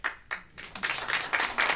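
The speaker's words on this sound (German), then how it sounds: "Gott sei Dank habe ich jetzt Applaus bekommen" Audience applause on a German talk show, starting with a few separate claps that quickly swell into brief, close, bright clapping from several people.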